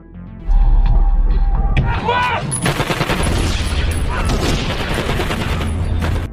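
Sustained film gunfire during a police raid, bursts of shots and booms crackling loudly over a dense action soundtrack, with a voice talking briefly partway through.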